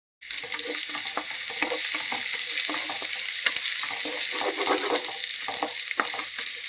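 Ginger garlic paste frying in a pan for a bottle gourd curry, a steady loud sizzle with scattered crackles and stirring scrapes, starting abruptly and continuing without talk.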